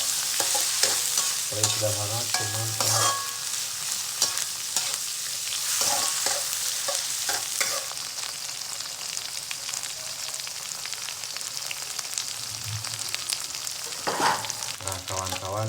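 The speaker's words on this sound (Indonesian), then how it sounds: "Pertama kita goreng dulu rebus sahabat." Rebus, an ingredient for Sundanese liwet, frying and being stirred in a pan, with steady sizzling and scraping stir strokes throughout and a brief spoken remark over it.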